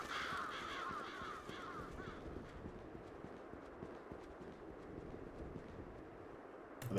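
Crows cawing in the gothic action game Bloodstained: Ritual of the Night, harsh repeated calls clustered at the start over a steady low ambient rumble and clopping-like rhythmic sounds, with a sharp sound at the very end.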